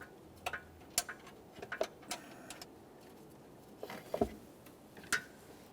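A bottom mounting bolt on the radiator fan assembly of a 2014-2018 Toyota Corolla is started by hand, giving scattered light metallic clicks and taps close by, with no speech.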